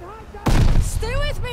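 A grenade detonates close by in Call of Duty: Vanguard, one sudden heavy blast followed by a rumbling tail, with a voice shouting over it.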